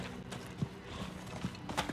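Hooves of a horse in Diablo IV clip-clop in a short, steady walking rhythm, close but fairly soft, with faint background game ambience.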